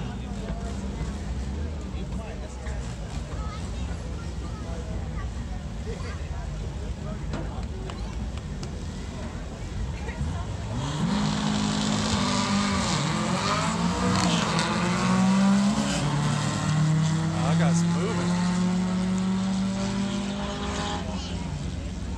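VW Beetle drag race cars at an outdoor Richmond, Virginia event, heard from the crowd as a loud engine roar swells midway into a rising, revving pass down the lane, with spectators talking over it.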